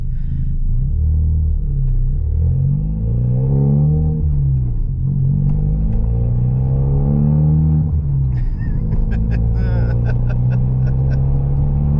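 A straight-piped Ford Fiesta ST180 drones loudly and steadily while driving slowly through a town, its deep exhaust rumble rising and falling with the revs the whole time.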